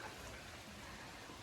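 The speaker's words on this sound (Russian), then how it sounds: "Пошел дождь, а я иду собирать яйца." Rain falls steadily outdoors by a chicken coop, a constant even hiss with no other sounds.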